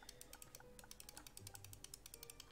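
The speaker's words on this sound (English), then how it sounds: "I'm clicking like insane" Rapid, fast clicking of a computer mouse or keys during a Roblox prison game, a steady stream of sharp close-up clicks over quiet game background.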